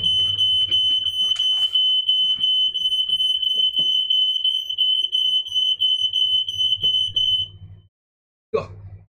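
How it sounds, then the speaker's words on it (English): A smoke alarm beeps continuously at a piercing high pitch for several seconds over a low hum, then cuts out, with a brief thump afterward. "That's a smoke alarm going off."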